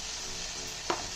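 Garlic frying in a pan: a quiet, steady sizzle that continues throughout, with one brief scraping stir near the end.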